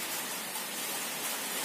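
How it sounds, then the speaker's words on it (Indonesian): Steady rain falls at a motorcycle auction yard, a continuous dense hiss with no pauses and no voices. "Ini hujan loh bro."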